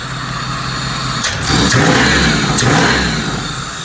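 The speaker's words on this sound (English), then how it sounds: "But this car, it sounds great, as you can tell." A car engine idles close by, then revs up loudly and holds a higher, throatier roar before easing back slightly, the sound of a car built for fun.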